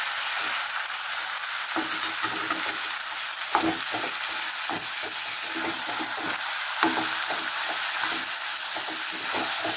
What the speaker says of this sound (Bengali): কচুর শাকটা দিয়ে আমি একটু নাড়বো।